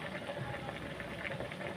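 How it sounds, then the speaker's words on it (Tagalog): A soft, steady bubbling simmer of a cooking pot coming to a boil, faint and continuous, with no voices over it. "So ayan na mga lods, kumukulo na."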